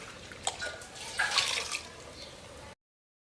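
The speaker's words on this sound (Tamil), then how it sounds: "அதில் இந்த கீரை வடித்து வச்ச தண்ணி ஊற்றி கழுவி ஊற்றி" Water drained from hummingbird tree leaves pours into a pot of curry paste, a splashing, trickling flow with a few drips, close and moderately loud for about three seconds before stopping.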